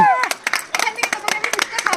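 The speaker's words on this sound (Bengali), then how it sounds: "জোরদার হাততালি" A small group bursts into quick, uneven clapping for a prize winner at a lighthearted challenge game, the claps close and sharp after a short spoken voice at the start.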